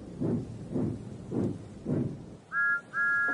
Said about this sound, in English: Then he heard a whistle.